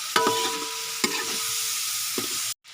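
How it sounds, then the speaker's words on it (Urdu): A spoon scrapes and stirs chicken karahi in a hot wok, sharp metal scrapes breaking through a steady loud sizzle of frying meat, cutting off briefly near the end. "اس میں مسلسل چمچ چلاتے رہنا، یہ نیچے سے جلے نہ اور کڑھائی کے ساتھ چپک نہ"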